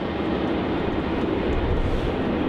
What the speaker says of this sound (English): we've got a this Qantas A330 that's taxiing down taxiway Alpha there